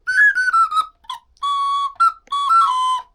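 A recorder plays a short, breathy melody of held and quick notes in separate bursts, close and fairly loud, with no speech.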